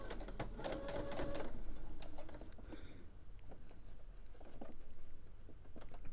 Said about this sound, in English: you can also just pop it in underneath your machine. And we're just going to do a little bit of a stitch.